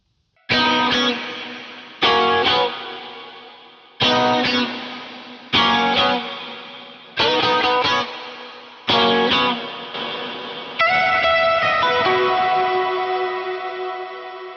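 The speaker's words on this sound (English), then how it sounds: "I'm going to run through that next verse, the 2nd verse, with all the effects" Electric guitar plays a lead verse through distortion, chorus and echo effects, with repeated bursts of ringing notes and sustained chords, loud and alone, each phrase decaying into a wash of echo before the next.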